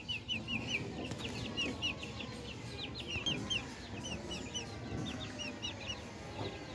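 Young chicks peep in quick, high, repeated chirps alongside soft clucking, faint and fairly distant, over a quiet outdoor background.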